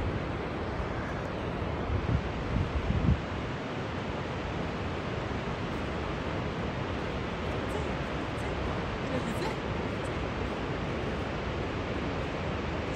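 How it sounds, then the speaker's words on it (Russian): Steady, dense roar of a waterfall in Switzerland fills the whole clip, a broad constant wash with a few brief louder thumps early on. "И вот в конце концов наш водопад."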